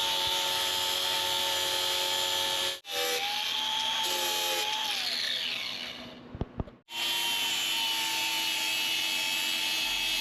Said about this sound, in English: I've started using this flat sander from Harbor Freight to sharpen all of my blades